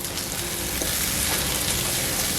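Rice frying lightly in butter in a pan, a steady dense sizzle that holds even and close throughout, with no talking.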